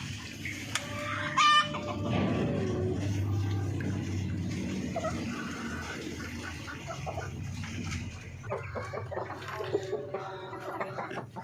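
Parawakan breeder chickens clucking and crowing in a pen, with a rooster's crow rising over steady low hen clucks and scattered farmyard calls, fairly close and continuous.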